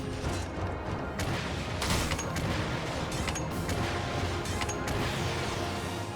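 Bowgun shots of Pierce ammo in Monster Hunter 3 Ultimate, a dense run of loud booming impacts and crashes over continuous battle noise, with no talk.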